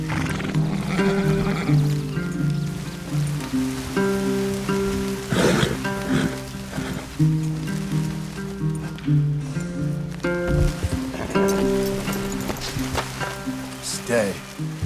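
Steady rain and a horse's neighs and whinnies in the Red Dead Redemption 2 game world, set against continuous layered tonal sound, with voices speaking over it.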